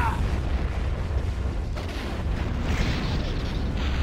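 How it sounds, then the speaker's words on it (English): Deep, rumbling cannon booms from space units in the game Star Wars: Empire at War – Forces of Corruption roll under a dense layer of synthetic battle noise, with a sharper blast near the middle. "Cannon firing."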